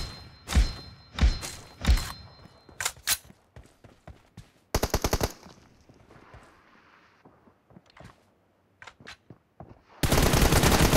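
Gunfire in a video game team deathmatch: scattered single shots and short bursts of rapid fire, loud and close, broken by quiet gaps, ending in a sustained heavy barrage.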